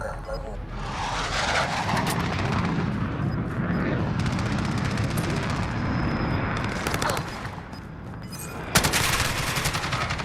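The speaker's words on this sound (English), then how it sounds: "Friendly precision airstrike inbound." Precision airstrike explosions and heavy gunfire rumble through a Call of Duty Modern Warfare match, a dense, loud wash of blasts and shooting with a sharp crack near the end, while radio-style voices talk over the action.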